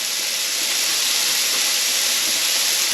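Ginger, garlic, chilli, salt and pepper fry in a hot pan for udon noodles, giving a steady, loud, even sizzle and hiss that holds throughout with no talk, ending in a brief clatter.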